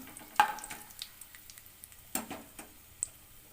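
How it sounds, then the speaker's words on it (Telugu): Whole spices, cinnamon, cloves and marathi moggu, fry in hot oil in a pan for egg biryani, a soft sizzle with scattered pops and crackles, fairly quiet and close. "చక్క లవంగాలు మరాఠీ మొగ్గ చూడండి ఇవన్నీ వేస్తున్నాను నేను ఇవి వేసుకోండి ఇవి వేసి కొద్దిగా వేగిన తర్వాత"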